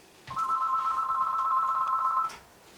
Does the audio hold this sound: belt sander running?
no